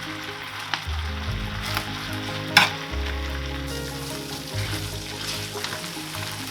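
Rose pasta in tomato sauce being stirred and simmered in a pan, with steady soft sizzling and intermittent scraping stirs, close and fairly quiet.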